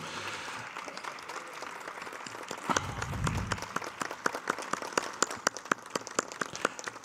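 An audience applauds filmmaker Cyrus Alvand, a dense patter of clapping that builds into distinct sharp individual claps, a few hands continuing loudly and unevenly toward the end.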